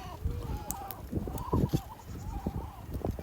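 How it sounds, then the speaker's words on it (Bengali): Several goats on a farm in Columbia, South Carolina bleat nearby in wavering cries, overlapping and repeated, over a noisy outdoor background. "ছাগলগুলো দেখতে পাচ্ছেন"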